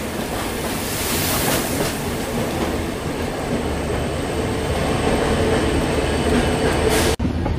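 Train running on a single-line diesel route in India, a steady, loud rumble of wheels on rails with rhythmic clickety-clack, close by and continuous until it cuts off abruptly at the end.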